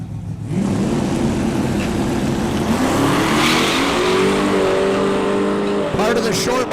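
No-prep truck drag race with tires smoking, engines bellowing loud and near as they rev up through rising gears for several seconds, a few sharp pops near the end, with an announcer talking beneath.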